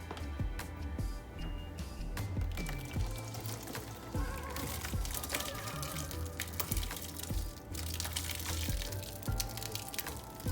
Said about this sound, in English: So we're gonna pour it in here.